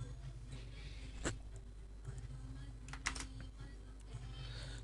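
A SQL query typed on a computer keyboard in SQL Server Management Studio, faint scattered key clicks with a couple of sharper taps over a quiet background hum, no talking.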